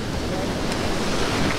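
High surf rolls in at Calangute beach in Goa, a continuous close, windy wash of breaking waves with wind buffeting the microphone.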